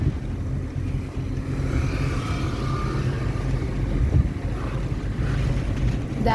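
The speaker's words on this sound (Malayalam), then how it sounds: "വെള്ളത്തില് ബോട്ട് കണ്ടോ?" A boat on the water passes amid wind and lapping waves, a steady low engine hum blending with gusty microphone wind and surf noise.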